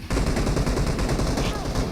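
Rapid automatic gunfire from a squad-based shooter video game, loud and nearly continuous bursts filling the whole moment, with faint voices underneath.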